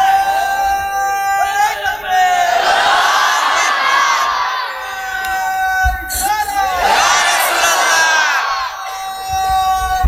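A large crowd at a waz religious gathering roars takbir together in two long, loud surging shouts, separated by a brief lull with a single voice leading.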